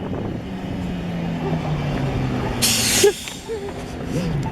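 A city bus pulls up in traffic with a loud burst of air brake hiss, low engine rumble underneath and people talking nearby.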